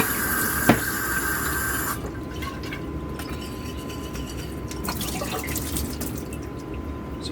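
Running water rinsing out a wine making container, a steady broadband splash and trickle with a small knock near the start, continuous and close with no talk.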